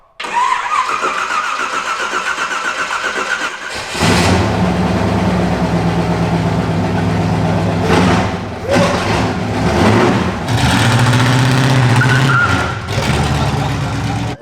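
A car engine cranks and catches, then settles into a steady, loud running rumble with a few revs, close by and without talk.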